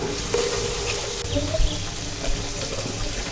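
Chopped chilies frying in the oil of a small-fish and tomato curry, with a close sizzle broken by stirring scrapes and a few knocks of the utensil, and no talk.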